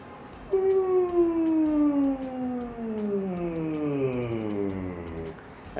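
A singer's voice imitates a puppy dog whimper: a single high, thin whine that starts abruptly and slides slowly downward over several seconds, fairly close and alone without talk.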